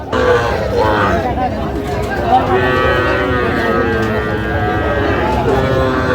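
A young Sahiwal bull calf, three to four months old, moos repeatedly at a Chandpur cattle market, loud and close, while a crowd chatters and people talk in the background.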